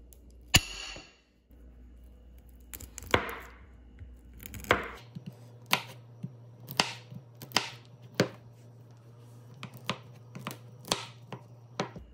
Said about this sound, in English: Don't you just love cutting butter on a nice Thursday afternoon?